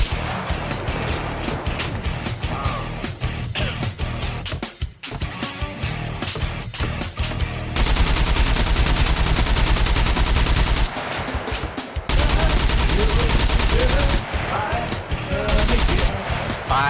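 Rapid bursts of automatic gunfire in the survival video game SCUM, loud, dense volleys repeating in several long stretches with short gaps between them.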